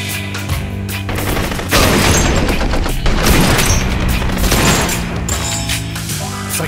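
Heavy gunfire fills a scene in the Blue Estate shooter game, a loud dense fusillade of rapid shots and booms layered over a game score, continuous for several seconds.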